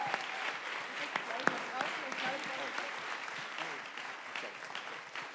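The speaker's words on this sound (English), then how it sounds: "have a big round of applause for Mr. Bainimarama" Audience applauding a guest at a youth climate conference closing ceremony, a steady wash of many hands clapping heard from a distance, fairly faint, with some crowd voices mixed in.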